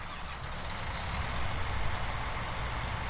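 Steady engine rumble of a John Deere S790 combine in a farming game, a continuous low drone that builds slightly in loudness with no voices over it.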